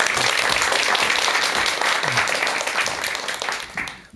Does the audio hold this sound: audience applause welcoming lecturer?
yes